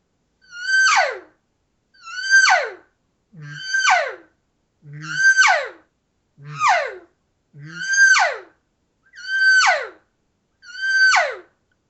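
A man imitates a high-pitched elk bugle call with his voice, producing eight evenly spaced, loud, sweeping squeals that break and fall in pitch, some ending in low grunts, with no talk in between.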